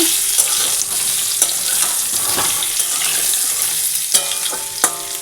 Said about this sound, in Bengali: ডিমের আলু ভেজে নিচ্ছি